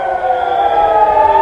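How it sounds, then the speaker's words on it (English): Air raid sirens sound over northern Israel during an Iranian missile barrage, a loud, steady, sustained wail with no voices over it. "There you can hear the sirens sounding over northern Israel."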